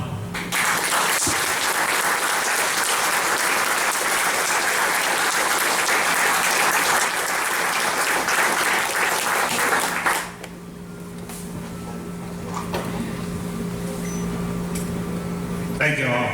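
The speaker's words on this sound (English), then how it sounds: "let us give these heroes a thunderous applause worthy of that honor" An audience at a pilots' reunion applauds heroes with loud, sustained clapping that cuts off abruptly about two-thirds through, leaving a quieter room hum with a steady tone and faint murmurs.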